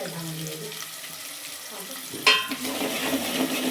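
Peanuts frying in a pan with oil while making Gujarati batata poha, a soft sizzle with stirring clatter, a sharp clink near the middle, then steady crackling frying close by.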